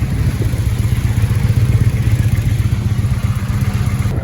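A 2005 Kawasaki Vulcan VN800 motorcycle idles up close after a jump start, its engine holding a loud, steady, even low pulsing throb with no talk over it.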